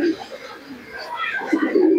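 Pigeons cooing nearby in low, rolling murmurs, heard briefly and clearly alongside other faint background activity.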